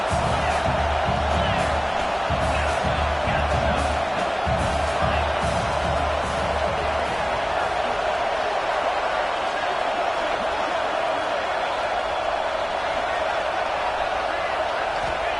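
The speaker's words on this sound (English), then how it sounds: "This crowd trying to make life miserable for this offense." A football stadium crowd roars steadily at Louisville, a dense, loud wash of cheering and noise held throughout, with a commentator's voice over it.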